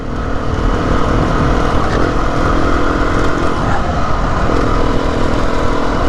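A Beta 390RR dirt bike rides a green lane on the Pilgrims Way in Kent, its engine a steady, loud drone with wind rush and no real change in pitch throughout.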